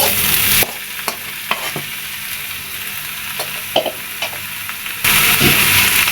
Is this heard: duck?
no